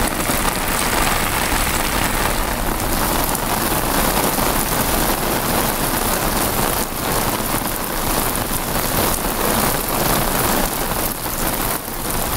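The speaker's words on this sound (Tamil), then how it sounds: "தமிழகத்தின் டெல்டா மாவட்டங்கள் உள்ளிட்ட பல்வேறு பகுதிகளில் பரவலாக பெய்த கனமழை." Heavy rain pours steadily across Tamil Nadu's delta districts, a dense, continuous hiss of drops drumming on surfaces at full loudness throughout, with no voices.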